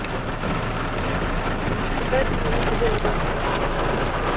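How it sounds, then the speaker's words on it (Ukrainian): Rain falling outdoors in Zakarpattia, Ukraine, a dense steady hiss that persists throughout, with faint background noise beneath. "пішов дощ"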